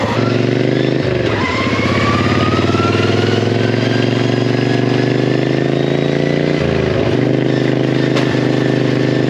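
A low riding lawn mower converted into a race mower cruises around a neighborhood, its small engine droning loud and close throughout, with a couple of brief rev dips and recoveries.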